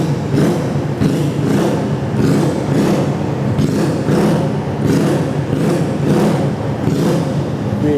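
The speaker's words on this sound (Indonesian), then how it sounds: "Sekarang kita cobain, kita geber-geber." A custom bore-up Honda Spacy motorcycle engine revs repeatedly, loud and close, with a deep bassy exhaust note rising and falling in steady bursts throughout, and no talking.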